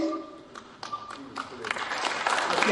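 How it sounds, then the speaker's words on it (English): Audience at a university teach-in applauds and cheers, a crowd swell of clapping that grows louder toward the end, with someone speaking over the start. "Can you hear them cheering?"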